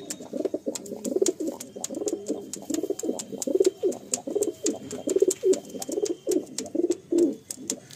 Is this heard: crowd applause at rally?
no